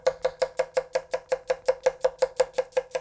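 A Hatsukokoro Kurogane knife tapping quickly on a cutting board, a rapid, even run of about seventeen crisp, close chops with no voices.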